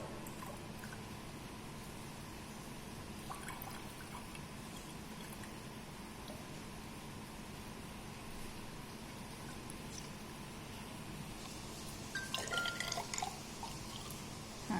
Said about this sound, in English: Now drop wise addition should be done so that the level of water will not exceed